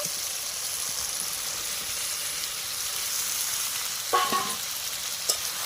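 Chicken masala with green jackfruit, chili paste and potatoes being sautéed in a kadai gives a steady, close sizzling hiss, with a brief louder scrape of stirring near the end.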